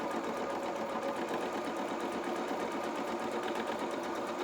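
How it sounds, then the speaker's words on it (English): A sewing machine zigzag-stitches along a felt fabric edge, giving a fast, even mechanical chatter that runs continuously and steadily at moderate loudness with no talking. "just zigzagging this edge just to neaten it off."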